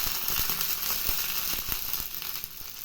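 Mustard seeds crackle and pop in hot oil with shallots, dried red chillies and curry leaves for a Kerala-style tomato curry tempering, a dense close sizzle dotted with sharp irregular snaps.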